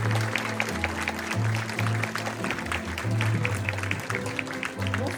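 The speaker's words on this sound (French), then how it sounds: "Sous vos applaudissements" Audience applause welcoming Nancy, director general, onto the stage at an evening celebration: a dense, steady wash of clapping from a crowd that carries on throughout, with low musical tones running beneath.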